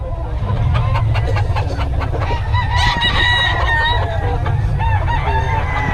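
Sweater breed roosters crow loudly and repeatedly nearby, layered with busy clucking and a constant low rumble from a vehicle or crowded surroundings.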